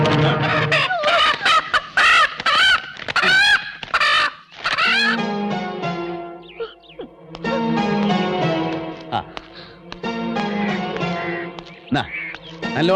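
Backyard hens make repeated clucks and drawn-out squawking calls, loud and close, in uneven bursts separated by short pauses.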